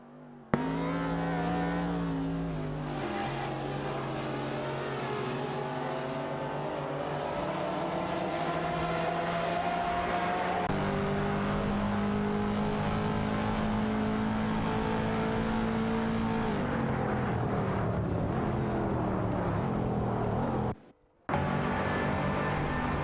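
Race cars roar around a track in a video game, led by a McLaren F1 GT, as several engine notes rise and fall steadily, with a sudden shift partway through and a brief cutout near the end.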